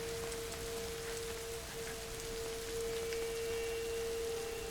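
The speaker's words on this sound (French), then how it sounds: "Super, il pleut." Steady rain in a video game, A Plague Tale, patters on a surface, a constant soft hiss with a faint continuous tone underneath and no voices.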